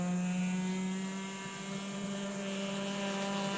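A small RC model airplane engine drones steadily overhead, a continuous high-pitched buzz that dips slightly midway as it passes, with no voices.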